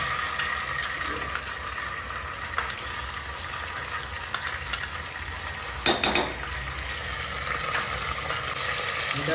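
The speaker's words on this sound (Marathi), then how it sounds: "त्याच्यामध्ये आपण आलं लसूण पेस्ट ऍड करतोय" Ginger-garlic paste fries with cumin in a pan for biryani, a soft sizzle under occasional clinks and scrapes of a utensil, with a louder clatter midway.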